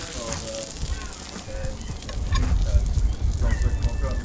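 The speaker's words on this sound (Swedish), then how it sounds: "Nu har vi så fint kött så vill jag inte steka igenom det helt." Meat sizzling on a grill at an outdoor barbecue in Malmö, a crackling fry that builds louder in the second half beneath occasional talk.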